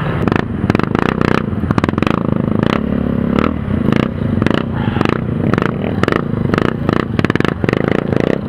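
Group of motorcycles on a ride through the Serra Dona Francisca passing close by one after another, a rapid series of engine roars and revs with clattering bursts, loud and continuous.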